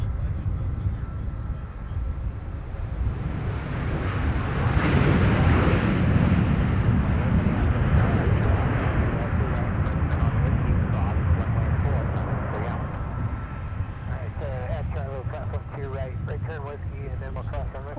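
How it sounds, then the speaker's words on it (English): An American Airlines Boeing 737-800 arriving from Dallas lands at Minneapolis–Saint Paul airport, a broad engine roar that rises and then slowly fades, heard under ongoing talk. "In the foreground, you'll see an American flight from Dallas land with a 737-800 too."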